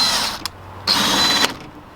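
A power drill drives screws into a bus door panel during a bus conversion, with two sustained whirring runs separated by short sharp clicks and a pause.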